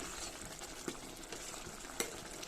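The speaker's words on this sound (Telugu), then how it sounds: "రైస్ ఉడుకుతుంది కదా, మళ్ళీ ఒకసారి కలిపి ఇంకా దగ్గరికి రావాలి." Tomato rice cooking in a pot, stirred with a utensil: a faint, steady bubbling sizzle with a couple of soft scraping knocks against the pot, quiet and close, no voices.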